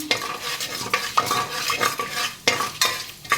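Mustard seeds and a little cinnamon tempering in hot oil, with sharp crackles and pops bursting irregularly over a soft sizzle, plus the scrape of a spoon in the pan, close and without speech.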